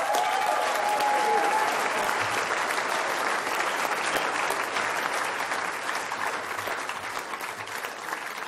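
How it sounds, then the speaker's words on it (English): Sustained audience applause fills a hall at a political concession speech, dense and steady clapping holding loud before slowly easing, with no speech over it. "Give him a round of applause."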